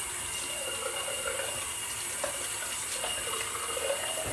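A bathroom tap runs steadily to rinse a razor during a shave, a close continuous hiss of water into the sink with faint splashes and clinks of the blade under the stream, no voices.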